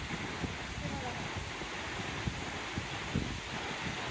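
Steady wind gusts mixed with the broad rushing roar of a large monsoon waterfall at Bhorgiri, a continuous dense wash of noise with low rumbling bumps, heard up close and without speech.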